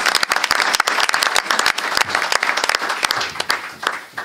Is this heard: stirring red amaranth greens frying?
no